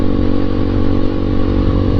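A KTM 390 Duke single-cylinder engine drones loudly and steadily while the motorcycle is ridden at about 70 mph, a close, continuous buzzing hum.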